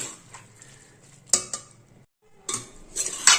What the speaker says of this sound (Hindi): आटे को साग में अच्छे तरीके से कड़छी की सहायता से मिला देंगे